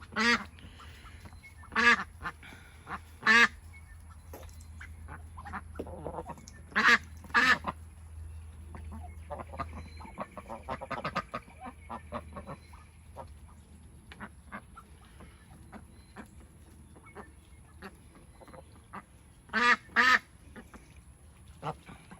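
Loud quacks come in short bursts of two or three, separated by quieter stretches of soft background chatter and rustling.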